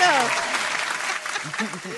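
An applause sound effect on a live show rises under overlapping talk, a bright wash of recorded clapping with voices speaking across it throughout.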